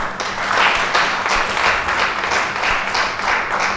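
An audience at an African healing-plants festival applauds a commissioner with full, dense clapping that holds steady and loud for several seconds, rising and falling slightly in waves.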